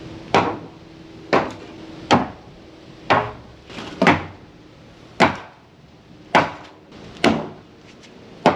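Nine sharp, evenly spaced hammer blows strike wooden boards being knocked out during dismantling of part of a house, each impact ringing briefly in a fairly close, reverberant space.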